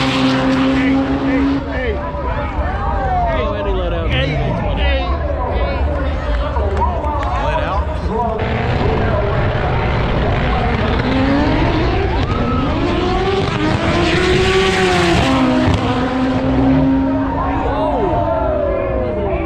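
Race cars tearing down the strip at Hot Rod Drag Week, engines roaring and whining in continuous loud passes over a busy crowd, with people talking throughout.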